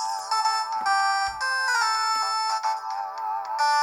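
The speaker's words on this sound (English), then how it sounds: "Final ringtone, please." A Samsung GT-E1272 ringtone plays from a Newmind F15 flip phone: a loud, bright electronic melody of sustained tonal notes shifting in steps, heard alone without talking.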